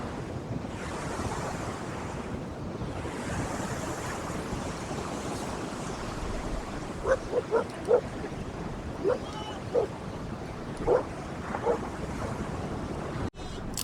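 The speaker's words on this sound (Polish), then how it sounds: "Przyszedł taki wiaterek jeszcze większy niż wcześniej." Strong wind and breaking surf on Santa Cruz beach, California, make a continuous roaring wash with wind buffeting the microphone, and a few brief voices emerge in the second half.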